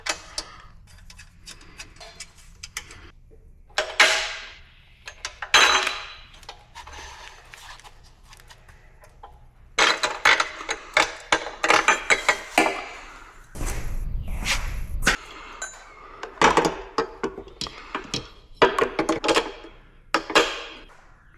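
Socket wrench with a 13mm socket tightening the nylon locking nut bolts on the rear shock of a HappyRun G300 Pro 3000W 72V electric bike, heard as bursts of quick ratcheting clicks separated by pauses, close and fairly loud.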